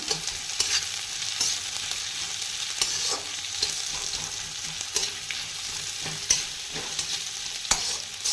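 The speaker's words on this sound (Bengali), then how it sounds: "এটাকে ভালো করে নেড়ে চেড়ে নিয়ে" Mushrooms being stirred and fried in an iron wok: a steady hiss of frying with repeated scraping strokes of the spatula at a close, moderate level, no voices.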